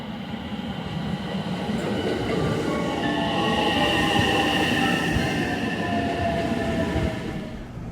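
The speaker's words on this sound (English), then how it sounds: "It's the local train to Hiroshima." A local train bound for Hiroshima, the first service of the day, rumbles steadily throughout with a broad low roar, faint rail clatter and thin high wheel squeal running over it, loud and continuous with no voices.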